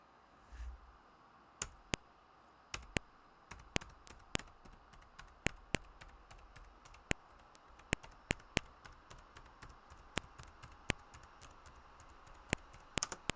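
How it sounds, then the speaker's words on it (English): Keys tapped on a computer keyboard while entering Japanese text for an MSX computer game, in sparse irregular clicks, some single and some in quick pairs, close and crisp against a quiet room hum with no talking. "changing the language setting on my keyboard to Japanese."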